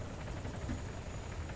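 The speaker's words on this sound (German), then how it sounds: "So, jetzt stürzt der Heli ab." A helicopter crashing in the video game Altis Life, heard as a steady, loud rotor and engine drone with a rhythmic chop that runs unbroken throughout.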